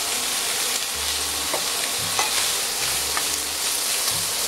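Carrots sautéing in a pan for a veal kidney dish give a steady broadband sizzle, with a few soft scrapes and stirring knocks from a utensil spaced through it.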